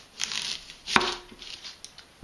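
A knife slices off the end of an onion on a cutting board, giving a few quick, crisp cutting taps with one firmer chop near the middle, close and fairly loud.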